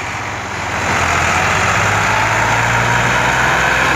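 A Massey Ferguson 260 tractor engine hauls a loaded sugarcane trolley, a steady low diesel drone rising slightly in level and then holding constant and close, with no one speaking.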